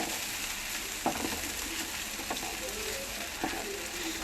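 Masala and idli pieces sautéed in a pan for idli upma, giving a steady soft sizzle with a few scraping stir clicks of a spatula, close and moderately quiet, with no talking.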